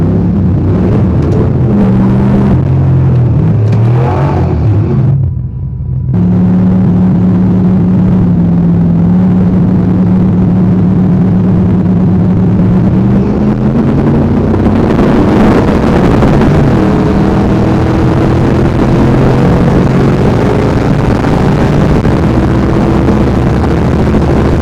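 A turbocharged Mustang on slicks is held on the brake at about 2800 RPM before launching. The engine drones loud and steady throughout, then rises in pitch and roughness toward the end, with wind buffeting the microphone.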